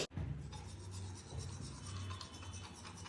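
Teeth being brushed with a toothbrush in a rented flat in a cold Srinagar winter: soft, close, rapid scrubbing strokes in a continuous rasping rhythm, faint and alone, with no voices.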